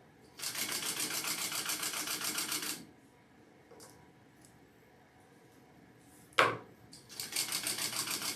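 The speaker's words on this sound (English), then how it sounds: "I'm just folding my raw edges in and then gonna sew down each side here" Sewing machine stitching down the sides of a fabric med bag, two steady rapid runs of needle chatter, quiet between them except for a sharp clunk as the fabric is adjusted.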